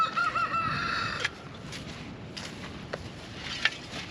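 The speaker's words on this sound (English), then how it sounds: "who's been the rooster now, turns out, is starting to crow finally" A rooster crows once, fairly faint and a little distant, followed by quiet outdoor ambience with a few soft knocks.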